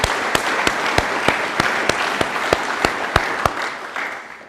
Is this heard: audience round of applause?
yes